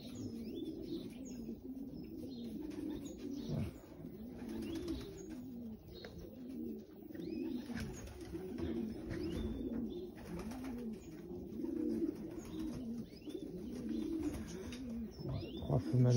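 Racing pigeons in a loft, a hen among them, coo in overlapping throaty rolls with occasional chirps and a brief wing flutter, a steady close chorus with no talk.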